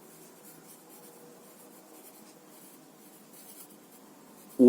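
A pen scratches steadily across paper while a graph is drawn freehand, a soft continuous close-up rubbing broken by tiny stroke pauses and a sharp knock at the very end.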